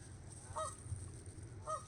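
Two brief honks from geese at an Alaskan pond, spaced about a second apart, moderately faint over a low continuous rumble.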